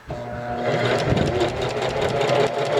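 Sewing machine stitching fold-over elastic onto a cloth diaper, a close, rapid mechanical whir and rattle running steadily for about three seconds without talk.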